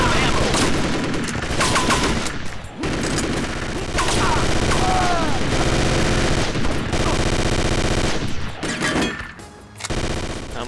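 Enemies fire guns in a Portland level of the Chaser video game, with loud, dense rattling bursts of rapid automatic fire that keep going with only brief gaps.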